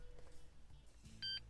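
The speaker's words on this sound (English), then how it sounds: "Okay, there's a double beep." A Honda car key being programmed gives a faint, brief electronic double beep near the end, with quiet background noise around it.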